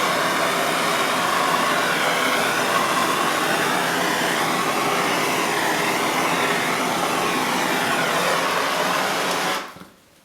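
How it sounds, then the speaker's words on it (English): A large torch roars with a loud, steady blowing rush for about ten seconds, then cuts off abruptly. "My regular torch died on me, so I'm using a great big one."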